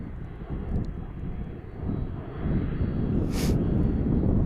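Qantas airliner approaching at DFW airport, a low steady engine rumble that swells as it nears, heard from a distance outdoors with a brief hiss near the end.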